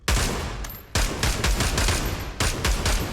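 Rapid virtual gunfire bursts in a VR shooter game, loud and close, with dense automatic volleys separated by brief gaps.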